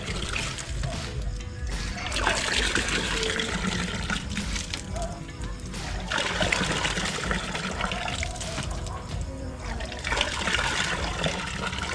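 Water pouring steadily into a freshly drilled well hole, a continuous broadband gush and trickle that stays loud and unbroken throughout.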